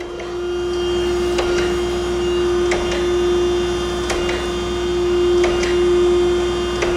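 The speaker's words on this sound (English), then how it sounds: "so we could turn the grinding wheel on" An Okamoto high-precision surface grinder runs with its grinding wheel spinning, giving a loud, steady tonal whine over a constant mechanical hum, with faint periodic ticks and no talking.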